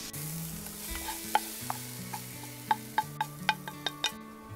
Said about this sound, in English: now that our vegetable mix is all sauteed up, we're going to go ahead and add that to our lentils